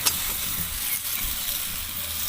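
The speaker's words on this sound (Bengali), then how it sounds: "তো এবার আমি ভেজে রাখা আলু আর এঁচোড়টা দিয়ে দেব।" Fried potato and jackfruit pieces hit a pan of cooked spice paste with green peas, giving a loud, close, continuous sizzle and hiss with a sharp crackle at the start and no voices.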